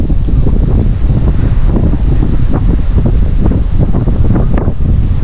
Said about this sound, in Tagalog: Malakas yung hangin ha.